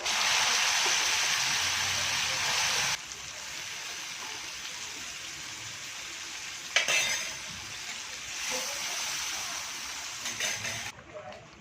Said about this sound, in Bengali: এবার আমি সিদ্ধ করে রাখা লাউ আর ডালটা দিয়ে দিচ্ছি।